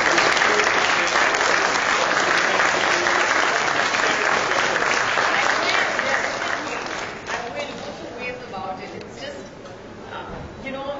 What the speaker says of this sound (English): a round of applause for the kids